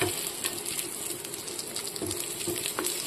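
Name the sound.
eggplant frying in a pan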